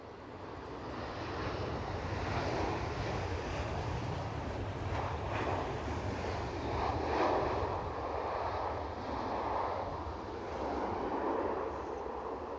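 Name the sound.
Edelweiss Airbus A320 aircraft from Zurich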